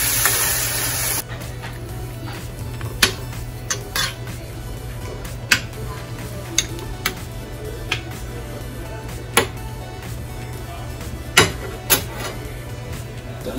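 Crawfish curry simmering in a frying pan after extra water is added, a steady sizzle and bubble with occasional sharp clinks of a utensil against the pan, close and continuous, no talk.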